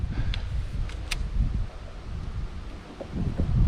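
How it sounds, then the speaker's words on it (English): Wind gusting over a pond buffets the microphone in uneven low rumbling surges, with a few faint rustles and brief higher ticks, rising and falling without any talk. "Wind is actually kind of picking up"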